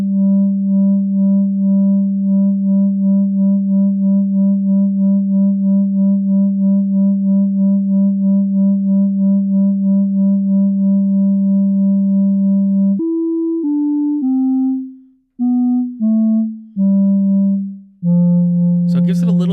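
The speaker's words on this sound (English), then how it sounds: "So it gives it a little bit of just like a vibrato sound" A VCV Rack modular synthesizer plays a steady sine-like tone that pulses with LFO vibrato, then steps through several shorter notes of different pitches before a brief crackle at the end.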